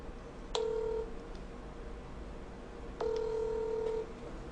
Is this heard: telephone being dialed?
yes